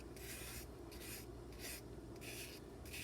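Sanding a knife's liner lock by hand with 800 grit sandpaper, five or six gentle, even rasping strokes in a steady rhythm, close but soft.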